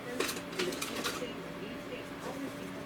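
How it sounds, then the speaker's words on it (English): A spoon scrapes and clinks against a jar while scooping out canned ground beef, with a few sharp knocks early on and then softer scraping. "I'm just gonna scoop out all my ground beef out of my jar"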